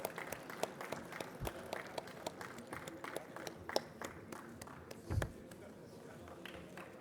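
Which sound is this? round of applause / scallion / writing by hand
round of applause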